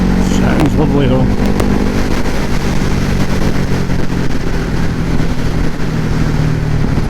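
A Ducati Hypermotard motorcycle engine runs with a steady, loud, close rumble that holds throughout without a break.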